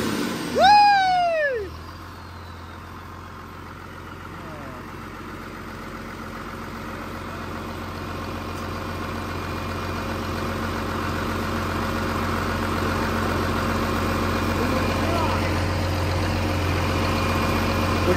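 A Cummins diesel engine in a truck project idles in a steady low drone after a short rising squeal at the start, its hum growing slightly louder over the length.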